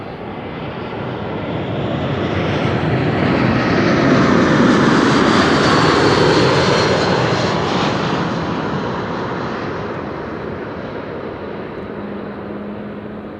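An airliner arriving at Amsterdam Schiphol from Erbil, Iraq, passes with a broad jet roar that swells to a loud peak mid-pass, then slowly fades as it moves away, with no voices.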